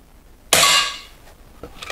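A Weihrauch HW 100 S air rifle fires a single lead-free pellet, one sharp crack followed by a short fading ring, then a faint knock, in an otherwise quiet space.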